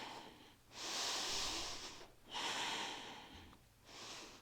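Slow, deep breaths during a core strength and stretch yoga session, close and clear: two long airy breaths and the start of a third, each separated by a short quiet pause, with no talking.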